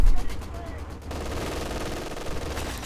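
Vickers and MG42 machine guns trade sustained bursts in a Company of Heroes 2 battle around buildings, a dense rattling fire with a sharp report at the start, continuing steadily throughout.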